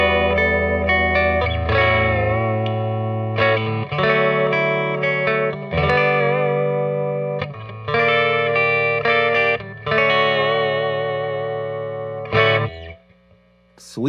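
Jazzmaster electric guitar with its pickup selector in the middle position, played through effects with distortion and chorus; a continuous run of ringing chords and notes, loud and close, with brief pauses and no voices.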